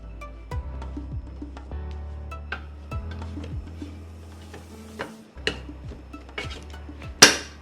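A spatula scrapes stir-fried cabbage down in a pan, making sharp metallic ticks and scrapes at an irregular pace with quiet gaps between them and a louder clatter near the end.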